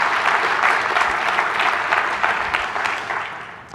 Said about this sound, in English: So how about an applause for that?